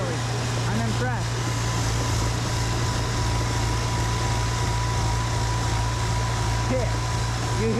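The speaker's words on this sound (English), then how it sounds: "You hear the tractor forcing." A tractor engine labours under heavy load while driving a PTO snowblower through deep snow, a steady loud drone with a constant low hum and broadband roar that never lets up.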